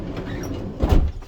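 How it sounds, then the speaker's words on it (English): The door of a 2017 Winnebago Paseo 48P camper van on a Transit chassis swings shut with a single close thump, near and solid, and no one talks over it. "shut this door"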